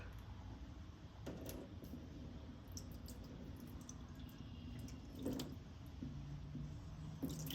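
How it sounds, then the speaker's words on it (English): Water poured into the grease channel of a Recteq X-Fire Pro pellet grill, a soft steady trickling and dripping with a few small splashes, close and fairly quiet, no talking. "let's pour some water in there."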